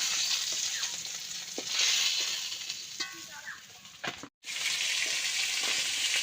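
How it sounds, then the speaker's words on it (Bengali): Pieces of rohu fish fry in hot oil, a loud, close bubbling sizzle with scattered pops and spatters, briefly cutting out before resuming. "এবার মাছটাকে ভালোভাবে ভেজে তুলে নেব"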